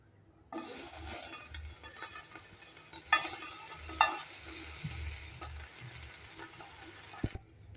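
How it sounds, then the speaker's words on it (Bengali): Chepa dried fish sizzles steadily in a frying pan, a quiet continuous crackle broken by a few sharp clinks and scrapes of stirring. "এখন আমি চেপাগুলো ভেজে নেব"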